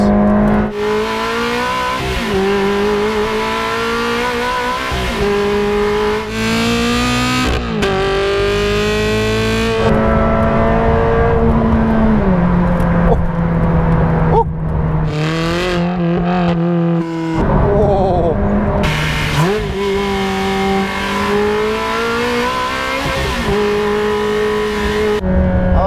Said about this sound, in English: One of the all-time great Ferrari engines, one of the top 3 exhaust notes and engine sounds